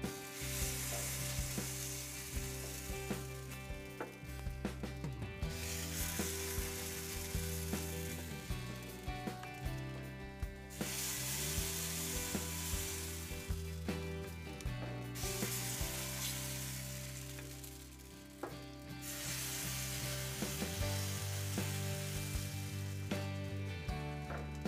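Johnnycake batter sizzles on a hot grill with a steady, close frying hiss, while music plays throughout.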